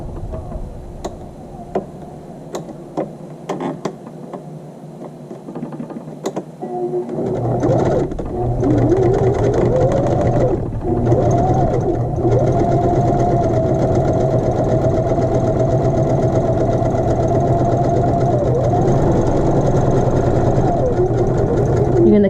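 Sewing machine stitching practice seams on a muslin square, starting after a few quiet seconds of small clicks, then running steadily with a loud whirring motor hum and rapid ticking needle rhythm.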